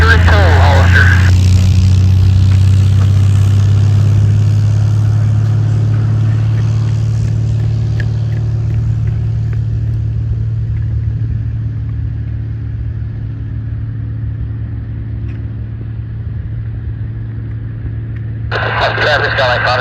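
A light tow plane takes off from runway 24 at Hollister with a glider in tow, its engine a steady loud drone that slowly fades as it climbs away, with radio chatter and voices over it.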